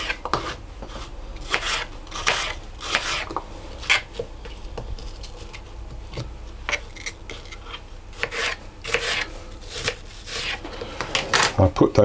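A knife cuts apples into pieces for turnovers, giving a run of close, crisp chopping and slicing taps in an irregular rhythm against a board.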